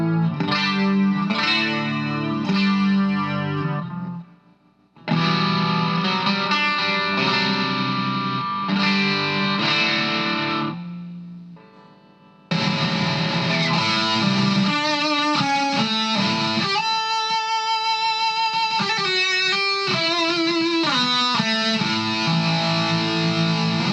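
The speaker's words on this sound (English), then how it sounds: "as you just heard on bank 3, I had 3 very different patches of guitar sounds" Electric guitar run through a Boss ME-20 multi-effects unit, cycling through three contrasting patches on bank 3: heavy chorus and distorted tones, loud and continuous with brief pauses between patches, no talking.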